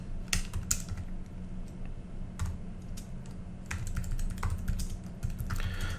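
Commands are typed into a terminal on an Ubuntu Linux computer keyboard, producing rapid, uneven clicking keystrokes close by with a few louder taps and short pauses.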